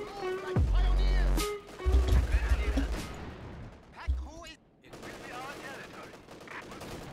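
Automatic machine gun turret fire in a World War Two game with a Luftwaffe field officer, loud bursts of rapid shots and explosions mixed with in-game voices and battlefield noise.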